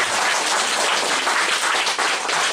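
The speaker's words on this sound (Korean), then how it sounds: "이 대목에서 외람되면 박수 한번." An audience claps at a Korean book talk celebrating novelist Lee Si-baek's new book, a dense, steady burst of applause filling the room for a couple of seconds with no talking.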